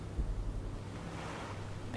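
Ocean waves and wind wash steadily around a small raft at sea in the survival game Stranded Deep, a continuous low rumbling surf with no clear speech over it.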